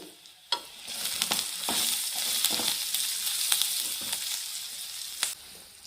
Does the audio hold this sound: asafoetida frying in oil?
yes